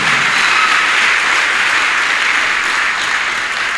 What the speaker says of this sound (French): si tu veux acclamer pour Jésus-Christ, acclame très fort